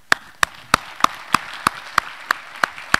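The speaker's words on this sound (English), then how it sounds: "a round of applause for the course staff" Crisp, evenly spaced claps, about three per second and loud, ring out in a university computer science lecture hall as thanks for the course staff.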